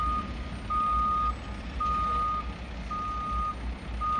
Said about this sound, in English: There comes one of the dump trucks in now.